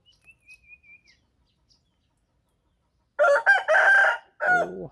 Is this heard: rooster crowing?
yes